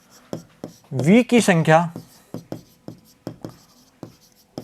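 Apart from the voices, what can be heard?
writing on a board during a maths lesson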